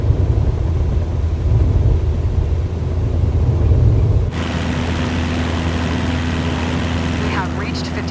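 Engine of a flight-simulated aircraft at full power during its takeoff roll on the runway, a steady loud drone with a heavy low rumble that shifts to a thinner, tonal hum partway through.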